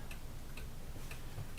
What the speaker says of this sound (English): The clicking sound is the clock up there.